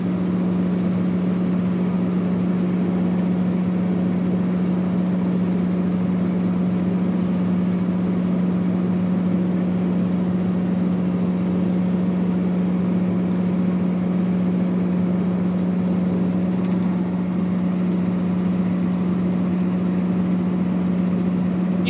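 A farm tractor idling in neutral during planter maintenance, its engine holding a constant steady hum with a strong low tone, close by and unchanging for the whole stretch with no talk.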